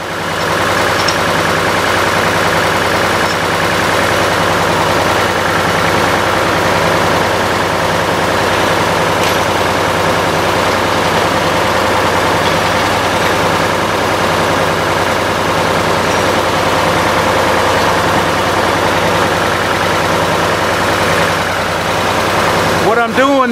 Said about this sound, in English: So I'm gonna start up the tractor